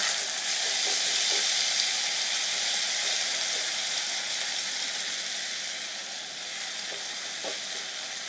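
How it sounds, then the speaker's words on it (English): Onions and garlic frying in olive oil in a pan give a loud, continuous sizzle and hiss, with a few faint stirring knocks scattered through and a slight easing toward the end. "I just put a little bit of olive oil, and I'm gonna add this onions and garlic that we processed all together"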